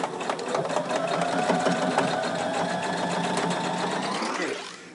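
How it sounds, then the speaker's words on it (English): Sewing machine stitching along the edge of a fabric crazy quilt table runner, a close, steady mechanical whir running almost continuously before winding down at the end. "we continue now sewing in the next direction."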